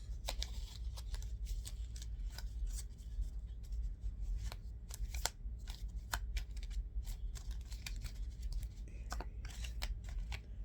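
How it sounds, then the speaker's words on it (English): Soft, quick riffling and flicking of a deck of tarot cards being shuffled repeats throughout, close by and quiet, with sharp little snaps scattered over a low steady hum. "Let's shuffle another deck"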